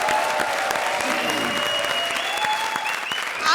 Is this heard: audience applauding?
yes